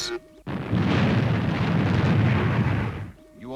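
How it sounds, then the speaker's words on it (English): Retro rockets on the spacecraft Fireball XL5 fire in a loud, sustained roaring rumble for about two and a half seconds, rising sharply and then cutting off, with brief voices just before and after. "Fire retros, Robert"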